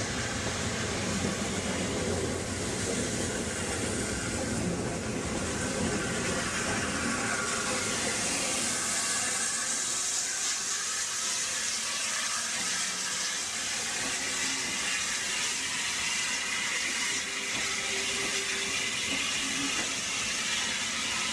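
A British steam locomotive of the 9F standard class, built near the end of the steam era, runs with a loud, continuous hiss and rumble that stays steady throughout, with no talk.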